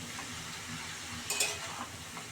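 Bottle gourd and moong dal being stirred in a pan, a faint soft sizzle with a few light scraping clinks of the spoon midway, no voices.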